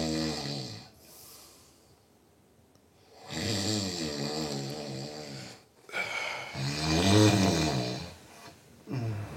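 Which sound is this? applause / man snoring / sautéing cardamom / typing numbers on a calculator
man snoring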